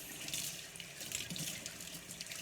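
Tap water runs steadily into a sink as a brand new stone molcajete is washed, with a continuous close hiss and faint splashing throughout.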